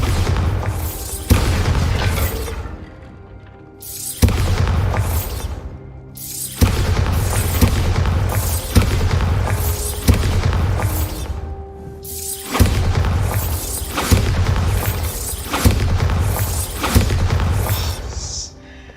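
Repeated heavy booms from a Bombarda blasting spell in Hogwarts Legacy, loud rumbling detonations following one another every second or two, with whooshing tails and no talking.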